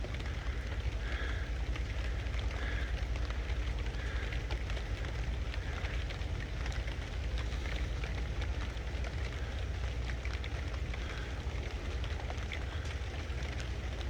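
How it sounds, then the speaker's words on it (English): Steady rain falls outdoors at night, a continuous broadband hiss of drops on surfaces holding at an even, moderate level throughout with no voices. "the rain coming down."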